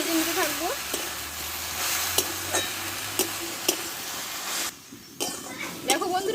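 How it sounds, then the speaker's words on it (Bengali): Jute leaf greens salted and frying in a pan make a continuous sizzle with periodic spatula scrapes and clinks, and a voice can be heard briefly alongside. "আমি শাকটাকে ভাজতে থাকবো"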